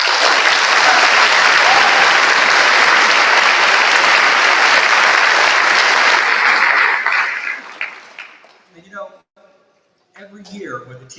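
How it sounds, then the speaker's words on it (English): An audience at a Class of 2024 school promotion ceremony bursts into loud, dense applause that holds strongly for several seconds, then fades out as a voice resumes speaking. "So they deserve a significant round of applause."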